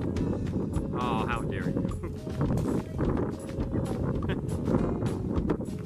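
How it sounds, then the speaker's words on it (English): Strong wind buffets the microphone in a steady, rumbling roar throughout, with people talking over it. "if you're the airbender, then can you stop all this damn wind?"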